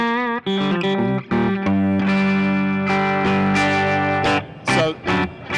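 Electric guitar played through a Blackstar tube amp on its American clean channel, bright and sharp, with ringing sustained chords and picked notes, close and loud, alone without talk.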